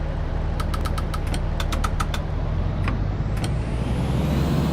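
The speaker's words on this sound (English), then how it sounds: "Put the train engine on." Class 156 diesel multiple unit engine idling in Train Simulator 2018, a steady low rumble and drone that holds throughout, with a few brief high ticks and clicks over the top.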